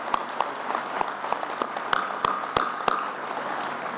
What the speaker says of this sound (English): One more round of applause for Ann and Andy.